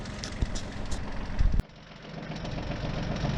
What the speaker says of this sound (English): tractor's running away from me again, slow and steady